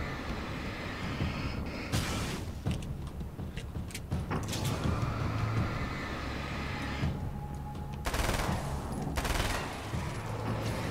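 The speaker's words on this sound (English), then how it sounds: "Burst fire, this will work perfectly" Burst-fire gun in the video game Alan Wake's American Nightmare, several short sharp volleys of gunfire separated by pauses, over low game ambience and mechanical noise.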